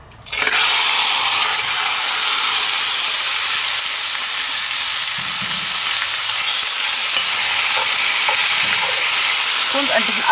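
Wild boar goulash meat sizzles loudly in hot oil in a Dutch oven, a steady crackling hiss that starts abruptly and continues without pause.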